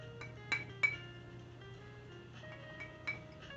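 Sharp glass clinks from knuckles knocking on a gin bottle, a few distinct ringing taps spaced irregularly, close and clear over a quiet room hum.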